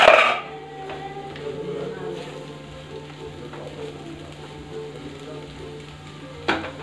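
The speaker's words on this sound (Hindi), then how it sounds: "तो चलते हैं इसको एक बार चला लेते हैं।" Achari aloo sabzi, spiced potatoes, being stirred as it fries in a pan over a raised flame, a steady close sizzle with scraping stirs, a sharper clatter at the start and another near the end.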